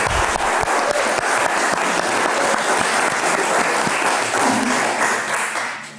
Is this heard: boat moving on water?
no